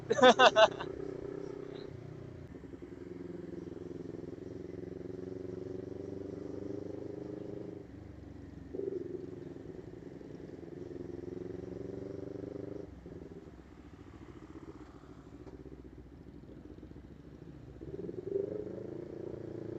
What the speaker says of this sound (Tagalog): Pumuputok yung motor ko kasi hindi pa maiinit.